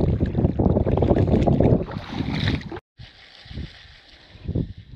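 Strong wind buffets the microphone in heavy gusts while fishing, roaring loudly, then drops briefly before lighter gusts return.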